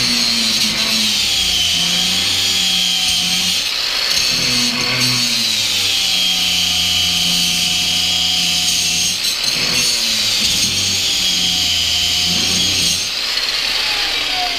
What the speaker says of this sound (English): Now I gotta grind this part of the knuckle down